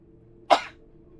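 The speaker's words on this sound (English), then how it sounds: "I've needed to sneeze for a while there." A single short, sharp sneeze bursts out close by in an otherwise quiet room.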